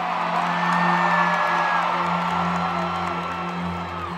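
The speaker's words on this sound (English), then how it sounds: "Y'all give him a round of applause," A large concert crowd whoops, yells and cheers loudly and continuously, with scattered applause mixed into the sustained roar of an arena audience.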